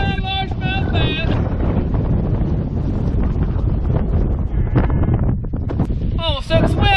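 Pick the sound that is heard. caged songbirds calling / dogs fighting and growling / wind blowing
wind blowing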